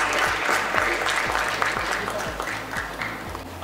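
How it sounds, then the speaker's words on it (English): Audience applause at a restaurant awards ceremony, a dense, steady wash of many hands clapping close by, with a few voices faintly mixed in. "Big round of applause, ladies and gentlemen."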